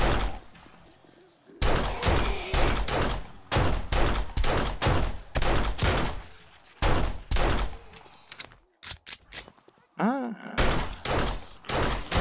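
Pistol fire in the survival zombie game 7 Days to Die, a run of sharp, loud shots fired in quick irregular bursts with short pauses between volleys, near and dominant.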